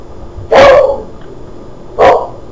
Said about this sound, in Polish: Przepraszam, to mój pies, oczywiście.